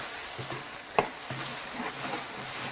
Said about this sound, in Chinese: 兔子肉倒进去，一起炒